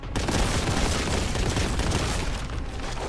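Rapid gunfire from a gun in a retro-style first-person shooter, a loud, dense, continuous barrage with no talking.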